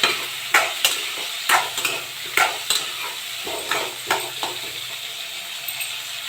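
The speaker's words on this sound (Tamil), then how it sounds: "இப்படி வதக்கிட்டோம்." Tomato and coconut being sautéed in a pan for an oil-fried brinjal curry: a steady soft sizzle with repeated sharp scraping clacks of a spoon against the pan, close and clear, no talking.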